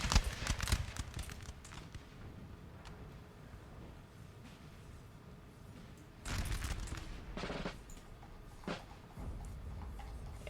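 Infantry musket volleys in a Napoleonic: Total War 3 multiplayer battle, a burst of crackling shots at the start, then a second loud ragged volley about two-thirds through, with scattered single reports and a steady battle din between.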